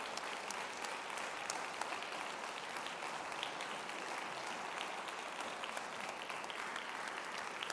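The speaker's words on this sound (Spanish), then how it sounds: "Un fuerte aplauso." Audience applause after a short film presentation, a dense, sustained clapping from a seated crowd that stays level and continuous throughout, heard at a moderate distance.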